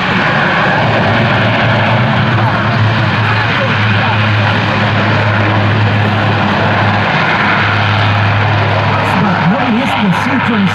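A Leonardo C-27J Spartan turboprop airplane landing at an air show in Radom, its loud, steady engine and propeller drone continuous throughout, with a narrator talking over it.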